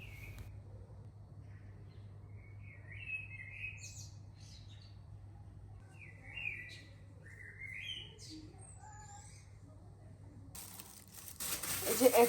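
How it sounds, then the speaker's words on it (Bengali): Small birds chirp and tweet repeatedly outdoors, a bright, irregular twittering at moderate distance over a low steady hum, with a rustling, crinkling noise rising near the end. "কত সুন্দর পাখিতে কিচিরমিচির ডাকছে"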